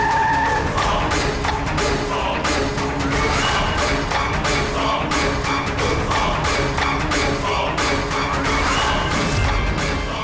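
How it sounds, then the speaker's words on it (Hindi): A car brakes hard to a stop with tires skidding in a crime-drama scene: a loud, sustained rush of tire and engine noise with crash-like bursts, filling the whole stretch. "गाड़ी रोको, साइड में लगाओ"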